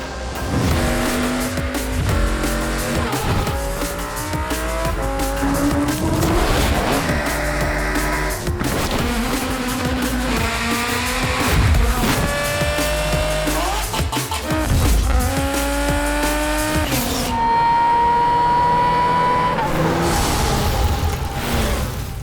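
Loud race car engines, including an Aston Martin Valkyrie AMR Pro, roar and rev repeatedly, gears shifting with rising and falling pitch, tires occasionally squealing, continuous for the whole stretch.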